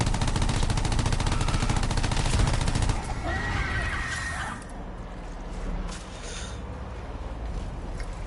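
Rapid automatic gunfire in the Anthem video game crackles loud and dense for about three seconds, then gives way to quieter game sounds with a brief whining tone.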